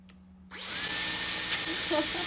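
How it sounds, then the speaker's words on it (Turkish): A Dyson hair styler clicks on with a hair strand wrapped around it, then a steady airy whoosh and whine runs on after a brief low hum, close and fairly loud. "Bir güdümü Dyson'ın üzerine sarıyorum. Açıyorum."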